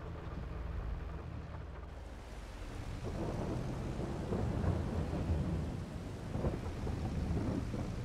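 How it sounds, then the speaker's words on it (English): Rain drums on the roof of a tractor cab in an Eastern European farming video game: a dense, even patter that swells slightly midway, heard up close with no talking. "I really like the sound of the raindrops on the roof of the tractor"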